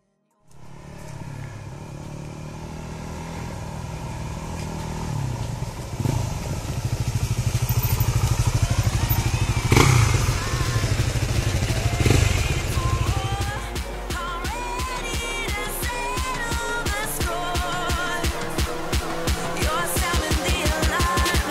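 Single-cylinder dual-sport motorcycles, a Suzuki DRZ400SM and Yamaha WR250X, heard as a steady engine drone that rises in pitch, then settles into a rapid rhythmic thumping, loud and close with no talk.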